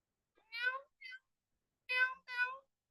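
A voice imitates a cat, giving four short meows in two pairs separated by a pause, clear and close against silence.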